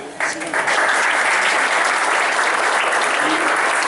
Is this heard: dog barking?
no